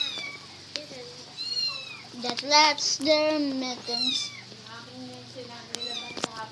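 A cat meows repeatedly in a home, with several clear drawn-out meows mixed with someone talking and nearby voices.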